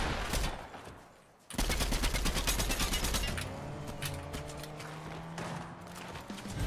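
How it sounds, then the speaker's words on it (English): Gunfire in the video game Fortnite crackles in rapid bursts after a brief lull, followed by repeated shots over lower mechanical and musical background sounds. "I hear another shooting going on."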